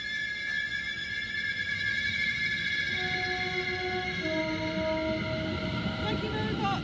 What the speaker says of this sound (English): right now we've got a London Overground train leaving Hatch End for Watford Junction